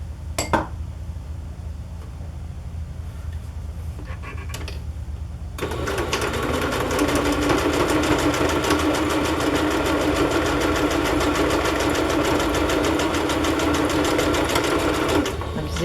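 Sewing machine zigzag stitching over cross-stitch fabric, a steady close buzzing run that starts partway through and carries on for about ten seconds after a few faint clicks and handling sounds.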